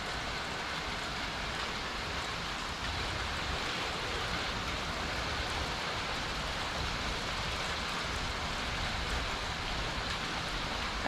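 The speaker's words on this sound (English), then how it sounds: "I love to sit and watch it and listen to it rain." Steady downpour on a rainy day in the Orlando, Florida area, a dense, even hiss of falling rain that fills the whole stretch without a break, fairly quiet and alone with no voices.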